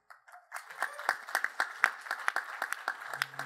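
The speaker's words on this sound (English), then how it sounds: "please, everyone, give a round of applause for our panel" Sparse, distinct claps from a modest audience at a California policy panel event, building into moderate applause whose individual hand claps stay audible throughout.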